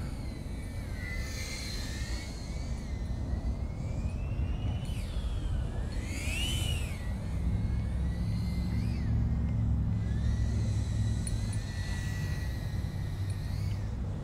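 A Tomoquads Baby EVO2 FPV drone flies near its battery limit, its motors giving a steady buzzing whine that rises and falls in pitch with throttle bursts, heard continuously at moderate distance with wind-like noise and no talk.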